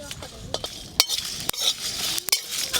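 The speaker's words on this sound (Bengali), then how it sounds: "গোটা ধনে, জিরে, মৌরি, এই তিনটে সব কিছু একসঙ্গে ভালো করে ভেজে নেব।" Whole coriander, cumin and fennel seeds with chillies frying together in a pan: a faint, thin sizzle under repeated metal clinks and scrapes of stirring, with a few sharper knocks against the pan.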